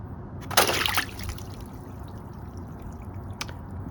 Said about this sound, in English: I pick it up, and here we go, a bucket of water.